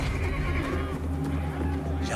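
A white horse whinnies amid a tense scene, the neigh blending with low background drone and music, fairly quiet and brief.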